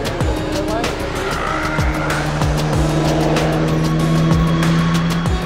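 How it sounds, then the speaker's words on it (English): Hyundai IONIQ 5 N electric car (650 hp) roars steadily on a track with rising and falling revs while tires squeal repeatedly during drifting, loud and close, with voices faintly underneath. "Is this his first time drifting an electric car?"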